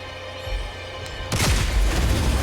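Video game gunfire in Honkai Star Rail: a quiet low rumble, then a sudden burst of dense, loud shots and booms that carries on to the end.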